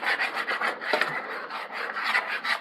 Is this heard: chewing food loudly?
no